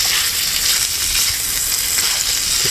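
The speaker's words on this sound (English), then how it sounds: "Actual bacon's actually cooked now, but I'll give it a bit longer." Bacon fries in a pan over a Solo Stove Lite double-wall gasifier wood-burning stove, a loud continuous hiss of sizzling fat with faint crackles underneath, close by and unbroken.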